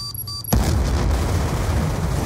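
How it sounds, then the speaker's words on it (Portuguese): Grenade explosion in Black Ops 2: a sudden loud boom cuts in after a quiet moment with faint beeps, then a sustained roar of noise and rumble carries on to the end. "Jogando granada!"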